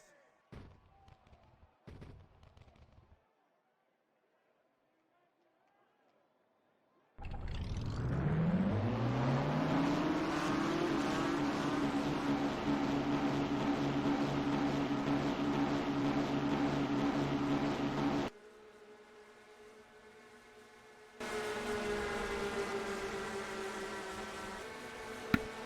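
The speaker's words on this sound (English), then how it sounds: "Drivers, start your engines!" Race car engines in a NASCAR-style racing video game at Atlanta Motor Speedway fire up together after a quiet lull, swelling into a loud sustained roar that drops back briefly before surging again.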